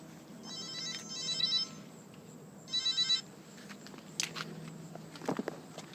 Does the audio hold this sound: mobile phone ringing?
yes